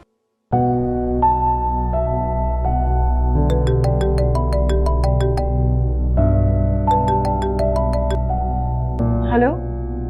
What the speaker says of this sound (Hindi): मैं कर रही हूँ फोन, अभी मिला रही हूँ।